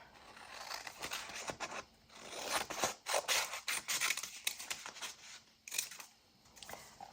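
Scissors snip repeatedly through a strip of paper for a junk journal page, with a run of close, dry cutting and rustling strokes that rise and pause across the span, no voices.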